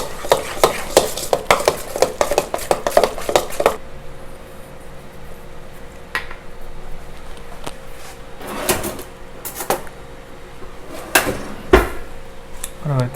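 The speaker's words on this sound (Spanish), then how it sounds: "un limoncito. Mezclamos muy bien." A bowl of eggplant dip being stirred with a spoon after a squeeze of lemon, quick clinking and scraping strokes up close, then quieter intermittent knocks over a steady background hum.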